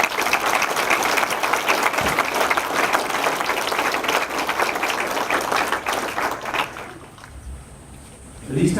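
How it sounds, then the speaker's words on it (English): A crowd applauds on a parade field during a military award ceremony and change of command, dense sustained clapping that drops off abruptly near the end, leaving quieter ambient sound and a low rumble. "So please join me in a round of applause for everyone on the parade field today."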